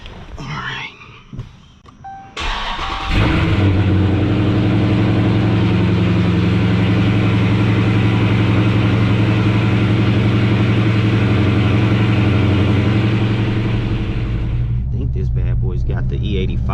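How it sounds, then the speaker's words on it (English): A Dodge Charger Scat Pack fitted with a PROFLEX Commander, running E85, fires up after a few seconds of quiet handling noises, then settles into a loud, close, steady rumbling idle that holds until it drops away near the end. "All right, we about to fire it back up."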